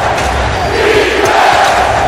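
Basketball arena crowd roaring and cheering during an Indiana Pacers versus Trail Blazers game, a loud, sustained wall of voices filling the space without a break.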